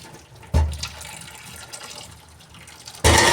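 Water pours from a pot of boiled potatoes into a sink, then cold water runs from a tap, two sudden loud gushes of splashing separated by quieter trickling and dripping.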